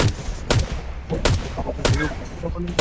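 Rapid bursts of video game gunfire crack out in quick clusters, loud and close, with short gaps between volleys and faint game background noise in a zombie game match.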